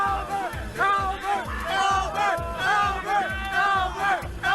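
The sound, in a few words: crowd erupting into a frenzy at a Melee tournament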